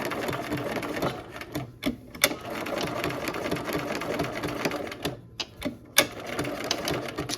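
Sewing machine stitching fabric with the needle down, a steady rapid mechanical whir and clatter running nearly continuously, with brief pauses and clicks as the fabric is pivoted.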